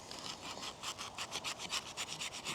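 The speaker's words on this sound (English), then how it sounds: "do a little sawing cut motion" A Case CT3 knife saws through 3/8 inch thick rope in quick back-and-forth strokes, giving about a dozen rhythmic, raspy scrapes that are close and fairly quiet.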